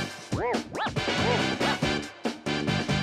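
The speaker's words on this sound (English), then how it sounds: "Dog." Dog barking in a series of about seven sharp, close yips and woofs in quick irregular succession over a faint background beat.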